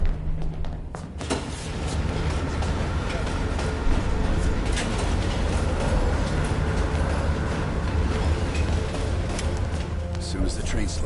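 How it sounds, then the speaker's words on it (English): Train rolling on rails in a Cold War video game campaign, a dense continuous rumble with rattling, thumping wheel and carriage noise, heard up close and loud throughout. "Train's slowing down."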